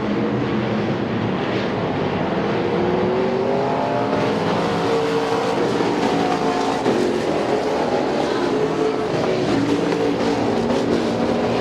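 Race cars lapping a Speedzone track, engines droning and swelling as the pack passes, with a continuous loud roar and shifting pitch under crowd and track ambience, no talk.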